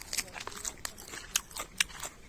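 Someone bites into and chews edible lily flowers while foraging outdoors in June: a handful of sharp, close crunches with softer chewing between them, irregularly spaced against a faint outdoor background.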